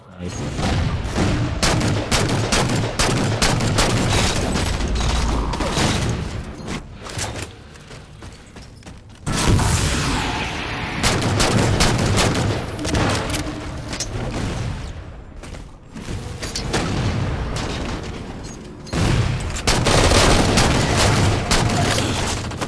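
Gunfire in Halo 4 Infinity Slayer multiplayer on the Abandon map: continuous loud rifle bursts and booming impacts, close and dense, with short lulls between exchanges.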